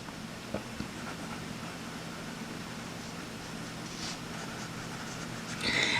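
Pelikan fountain pen nib scratching across Rhodia paper, a steady soft scratchy hiss of writing with a few faint taps, close and quiet over low room hum.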